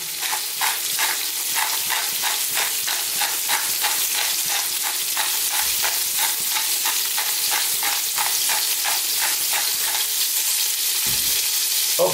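Celery and carrots sizzle steadily in a hot soup pot, seasoned with salt and black pepper, with a continuous close frying hiss and rhythmic crackling pops throughout, no talking.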